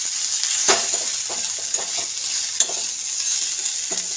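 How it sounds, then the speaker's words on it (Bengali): Ground spices frying in oil in a pan, cumin and chilli powder among them, hiss with a steady sizzle while a spoon scrapes and stirs in occasional clicks, close and alone. "এবার এটাকে ভাজবো।"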